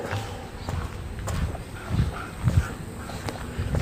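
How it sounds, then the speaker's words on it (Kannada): A dog barks a few times outdoors near a college, short, muffled barks at middle distance over street noise and footsteps. "ನೋಡ್ರಿ ಹಂಗೆ ಬೋಗತ್ತದ ನಾಯಿ"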